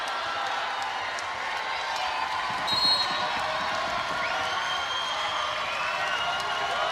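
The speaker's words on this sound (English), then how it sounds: "Listen to the noise of this crowd." Arena crowd at an NCAA women's volleyball match between Georgia Tech and Louisville, a steady loud roar of cheering voices filling the hall with a brief swell near the middle, broadband and continuous throughout.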